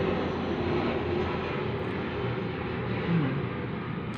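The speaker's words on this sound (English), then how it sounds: "my ears can certainly hear those planes. They go right over the roof here." Airplanes flying low over a house roof make a steady, muffled engine drone heard from indoors through closed windows, holding at a moderate level for the whole stretch.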